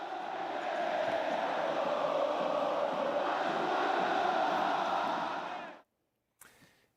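A stadium crowd of Vasco football fans roars and cheers in a steady, dense wash for nearly six seconds, then cuts off abruptly, followed by a brief faint snatch of sound.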